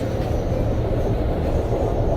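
Steady rumbling train ride with continuous low-frequency rolling noise and even carriage hum throughout, no clear voices.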